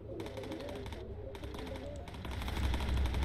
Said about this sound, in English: just seeing all the gunfire go in every different direction